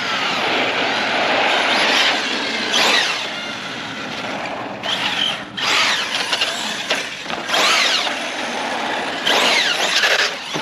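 An upgraded Arrma Fireteam RC car running flat out, its high-pitched electric motor whine surging in repeated bursts as it passes, loud and fairly close with gaps between runs.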